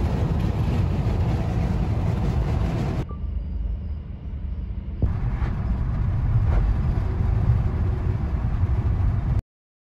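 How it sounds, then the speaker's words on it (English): A small van rolls away from a dealer lot, with steady mid-pitched engine and road noise that drops briefly, picks back up, then cuts off abruptly near the end. "Driving off the lot."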